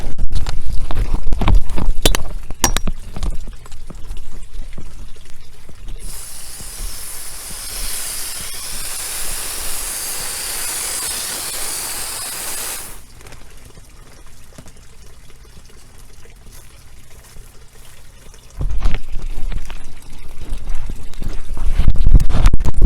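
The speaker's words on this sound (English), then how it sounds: "I'm going to just hit it with a little bit of water just to get it moist" Water is sprayed onto a potting soil mix to moisten it, a loud steady hissing spray running for about seven seconds in the middle, framed by quieter rustling and handling sounds before and after.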